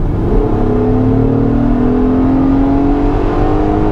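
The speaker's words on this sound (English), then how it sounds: "let's put it in normal here if I floor it" A 2022 Acura MDX A Spec engine pulls hard at full throttle in normal drive mode, a loud, smooth rising drone climbing steadily in pitch over a few seconds with no talk.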